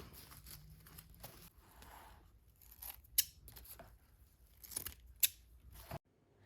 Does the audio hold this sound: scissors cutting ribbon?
yes